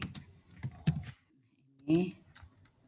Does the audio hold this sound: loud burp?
no